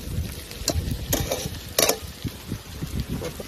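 Fish fat hits a pan of fried eggplant and sizzles, while a few sharp scrapes and clatters of stirring come close up over a continuous low frying hiss.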